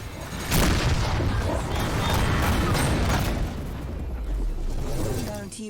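Heavy missile explosions in the space combat game Rebel Galaxy Outlaw, a loud boom hitting near the start then rolling into sustained rumbling blasts and crackle, dense and close.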